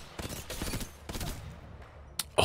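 Hemlock burst rifle firing in Apex Legends, several rapid bursts of close, loud shots with short gaps between them, ending in a final sharp burst.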